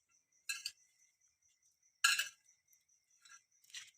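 A spoon clinks against a bowl while papdi chaat with boiled chickpeas and crisp papdi is mixed: a few quiet, sparse bright taps and scrapes with gaps of silence and no talking.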